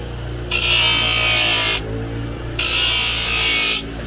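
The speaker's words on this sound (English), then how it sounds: "I just clean them up a little bit for them on the grinder" A bench grinder cleans up horseshoes for a farrier job in two long, loud bursts of harsh metal-on-wheel grinding, close by and over a steady motor hum, with no talking.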